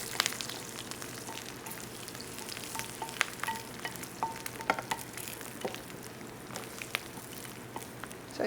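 Garlic frying in a tilted pan and stirred with a wooden spoon, giving a steady crackling sizzle with scattered sharp pops and scrapes, close and fairly quiet.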